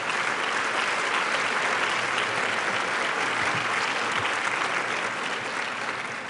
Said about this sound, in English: ladies, why don't you give yourselves a rousing round of applause?